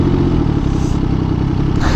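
An MV Agusta Superveloce motorcycle fitted with an SC Project exhaust runs loud and close, a rough, pulsing engine note with rapid crackling pops throughout.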